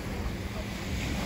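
Wind and surf at Bristol Beach in Falmouth, a loud continuous rush of wind buffeting the microphone over a low wash of waves.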